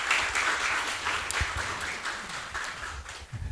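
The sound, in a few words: applause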